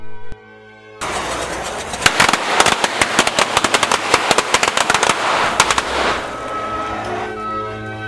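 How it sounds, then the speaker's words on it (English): A string of firecrackers lit by basic fuse bursts into a loud, rapid crackling barrage of sharp pops for about five seconds, then fades to quieter scattered snaps. "The problem was, I was using basic fuse and firecrackers, which are very difficult to time and control."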